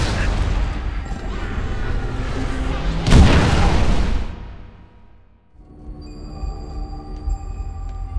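Artillery final protective fire in Halo: The Master Chief Collection, with a heavy boom bursting out midway over a steady rumbling battle bed, then fading away before distant combat noise and tones resume.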